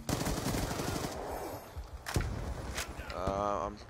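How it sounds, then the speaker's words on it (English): Rapid automatic gunfire in Black Ops 2 multiplayer, close and loud. Bursts of fire mix with game effects, a sharp crack, and a rising whine near the end, with a player's voice partly overlapping. "Someone shot me from behind."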